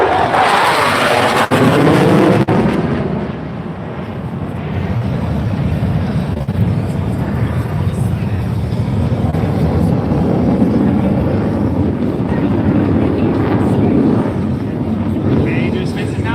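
An F-16 Fighting Falcon fighter jet roars loudly at the 2020 Fort Lauderdale Air Show, its sharp opening blast settling into a long, rumbling jet noise, while an announcer talks over the top.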